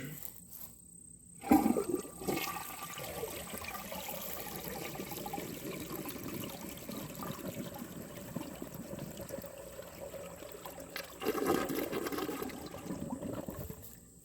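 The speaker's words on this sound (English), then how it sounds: "And it was kind of a weak flush, but it did siphon that time" A 1976 Eljer Emblem toilet, with its tank filled to the top of the overflow, gives a rather weak flush that rushes and gurgles steadily into a siphon, swelling again near the end, close by.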